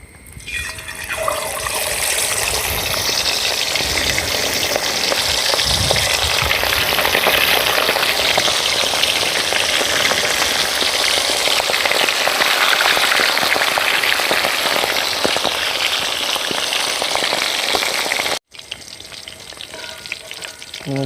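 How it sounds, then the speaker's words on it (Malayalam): Quail pieces dropped into hot oil set off a loud, dense, crackling sizzle that holds steadily for most of the stretch, then cuts off abruptly and resumes more quietly at the end; no one speaks. "കാടക്കോഴി അങ്ങോട്ട് ഇട്ട് കൊടുക്കാം."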